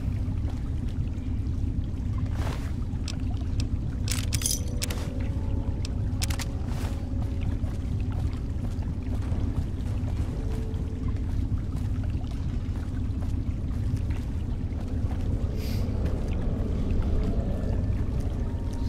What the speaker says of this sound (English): I always hear water, but I never see water.